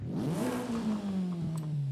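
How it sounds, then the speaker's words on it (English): Stock-exhaust car in a driving video game revving up and holding a steady, rising engine tone, loud and close, with no talking. "The stock exhaust sounds the best."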